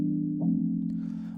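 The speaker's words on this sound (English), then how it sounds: "basically the chords of the song." Sustained synth chords of an Afro House track, a steady harmonic pad with a brief swell in the upper layer partway through, played alone with no voice.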